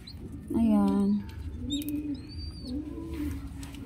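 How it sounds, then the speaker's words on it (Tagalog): A young pigeon chick coos softly in short, breathy bursts at close range, with people talking around it. "Kalapati guys, inakay."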